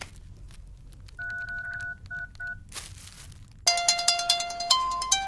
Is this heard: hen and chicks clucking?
no